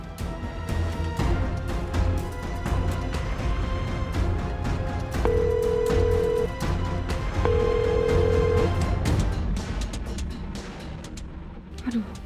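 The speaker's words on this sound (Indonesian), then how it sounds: "Tania, coba kamu telepon Nisa" Phone call to a mobile going unanswered, with a repeated ringback tone of two long beeps over a steady background hum and scattered clicks, fairly faint under the room sound.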